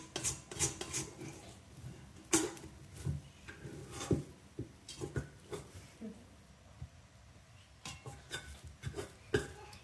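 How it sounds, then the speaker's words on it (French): Close, rasping scrapes of a utensil working bread dough around a bowl for pan-cooked bread, coming in irregular strokes with brief pauses between them. "Je vais bien racler."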